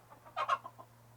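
A rooster on a homestead in Atlantic Canada clucks softly a few times, with two louder clucks in the middle, against a steady low electrical hum near a coop.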